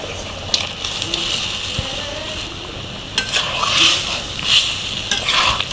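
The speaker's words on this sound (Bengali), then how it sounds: "ঝোলে বলক উঠলে আমি ভাজা মাছগুলো ছেড়ে দেবো।" Fried horn fish (stinging catfish) pieces go into boiling curry gravy with potatoes and green chilies, giving a close, crackling sizzle with stirring scrapes that swell in bursts toward the end.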